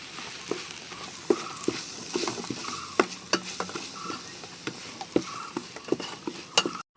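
Vegetables for chicken biryani sauté in a salted pan: a steady sizzle runs throughout, broken by frequent spoon scrapes and sharp clinks against the pan, with nobody talking.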